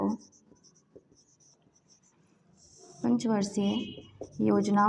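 Notes are written by hand during an economics class on India's five-year plans: faint, scratchy writing strokes for about three seconds, then a teacher begins speaking close up.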